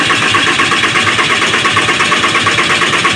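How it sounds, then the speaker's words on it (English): A Dodge 6.7 Cummins turbo diesel cranks over steadily on the starter without firing during turbo replacement work, a loud, continuous rhythmic churning that holds evenly for several seconds. "have an assistant crank the engine over"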